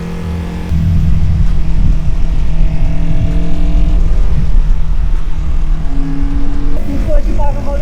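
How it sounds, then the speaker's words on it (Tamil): A Honda 250cc motorcycle engine roars on a street in Belgrade, a loud, steady, throaty drone that holds up close for several seconds with a slight shift in pitch near the end. "பெல்கிரேடோட புல்லட் பாருங்க, சவுண்டு சும்மா அல்லுது."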